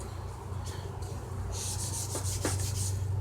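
A BC Rich Warlock guitar body is sanded by hand with sandpaper, close up. The steady, gritty rubbing strokes repeat and grow louder and denser in the second half.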